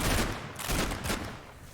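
Tank cannon fire in a realistic-mode tank video game, a rapid run of loud, sharp booming blasts in close succession with a rumbling tail, no talking over it.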